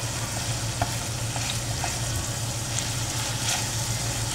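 Sisig being stirred in an oily frying pan, steady sizzle and frying hiss with occasional scrapes and clinks of a utensil, close and continuous.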